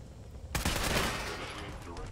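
Automatic gunfire from the video game Fallout 4 erupts as a dense, sustained burst after a quiet lead-in, rattling on loudly and then slowly tailing off.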